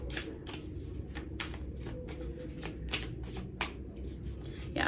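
Tarot cards shuffled and handled during a card reading, a steady close rustle of riffling cards with a few sharper flicks and snaps, continuing without pause and no talk.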